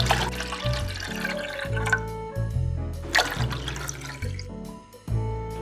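Water being poured, about 800 ml, for a no-bake dessert, a steady liquid stream running for several seconds, close and fairly loud, with no talking.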